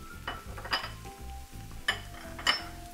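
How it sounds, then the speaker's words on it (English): Clinking of a utensil stirring salt and spice blend into vegetables, onions and garlic in a pan, with several light metallic taps and scrapes over a soft sizzle and faint background music. "Give it a stir."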